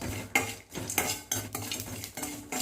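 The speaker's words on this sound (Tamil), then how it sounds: "நம்ம எடுத்து வச்ச பட்டை கிராம்பெல்லாம் போட்டு நல்லா பொன்னிறமாக வறுத்துட்டுக்கலாங்க" Whole cinnamon sticks and cloves stirred as they fry in a hot kadai, heard as repeated metal scrapes and clinks of a spoon against the pan at a steady rhythm, close and fairly loud, with only a light sizzle beneath.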